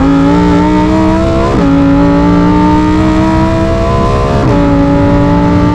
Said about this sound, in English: This car was meant to make noise, which is why we gear down and enjoy the revs.